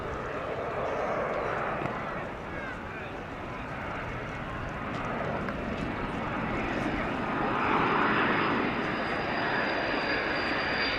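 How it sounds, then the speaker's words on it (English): A Transall C-160 military transport aircraft makes a steep combat-style approach, its propeller engines giving a continuous loud, rumbling drone that holds steady throughout, with a voice speaking over it. "This C-160 approaching in what you could almost call a nosedive, which is an approach used in combat."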